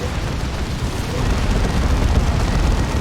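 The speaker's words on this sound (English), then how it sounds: "Everyone runs away from it because it's going to explode in a second." A Great Unclean One blows up in Dawn of War 2, a loud, rumbling low-heavy blast roar that swells and sustains for several seconds as a dense wash of explosive noise.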